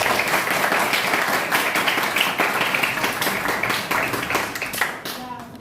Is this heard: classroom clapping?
yes